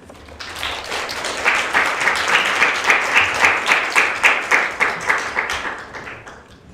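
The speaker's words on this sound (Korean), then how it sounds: "박수로 청해 듣겠습니다" Sustained audience applause welcoming a keynote lecture by an emeritus professor at an academic joint conference, a dense wash of many hands clapping that swells quickly, holds steady for several seconds, then tapers off.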